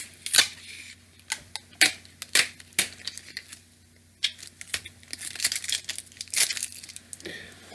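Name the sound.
Scotch tape being handled and torn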